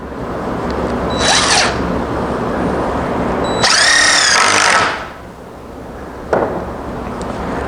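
A power drill drives 3-inch exterior-grade lag screws into wood while a gate is built: two loud whining runs that rise in pitch as the motor spins up, then a brief final burst, over steady background noise outdoors.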